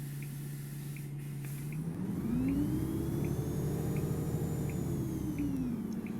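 Volvo Olympian bus in the OMSI 2 simulator, its engine idling with a steady low drone before revving up, the pitch rising and holding with a faint whine, then falling back near the end.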